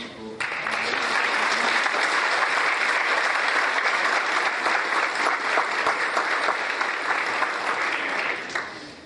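Colleagues at a lecture on the pension deficit give a speaker a full round of applause, with dense, steady clapping that rises quickly, holds for several seconds and then tapers off at the end.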